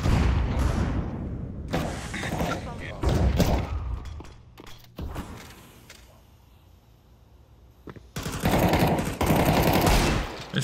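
Counter-Strike 2 gunfire: loud bursts of rapid automatic shots and single cracks come in clusters separated by quieter stretches, with people talking between them.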